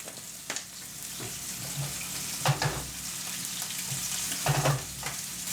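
Marinated steak fries in a pan with a steady, close hiss of sizzling fat, broken by a few louder spits and crackles as the meat is stirred or turned; nobody speaks.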